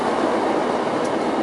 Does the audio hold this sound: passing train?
yes